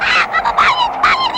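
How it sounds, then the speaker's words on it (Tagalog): A goose honks in a few loud, harsh bursts close by, each call short and nasal with brief gaps between. "Sira ang ulo tong patong to ah."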